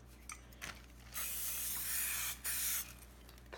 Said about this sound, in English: I'm gonna put a little bit of some cooking spray on there.